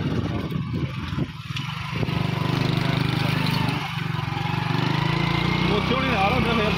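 A motorcycle engine runs steadily nearby with a constant throbbing drone, and voices talk over it throughout.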